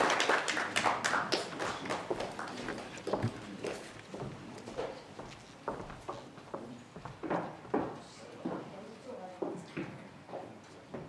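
Audience applause at the official launch of a green hydrogen safety and testing research project: a dense burst of clapping early on that thins out, with a voice talking over and after it.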